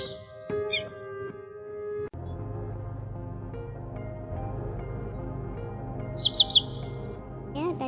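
Recorded call of a common greenshank used as a trapping lure: sharp, high chirping notes in short bursts, including a quick triple call near the end, over a low background hum.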